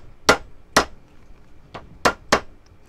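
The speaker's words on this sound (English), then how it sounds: "if this is gonna come apart, it's gonna come apart right now whenever you're hammering those pieces down" A mallet hammers soldered fork tines flat against the other tines while a double fork heart pendant is being made. Five sharp, loud, separate metallic strikes fall at irregular intervals in a quiet room.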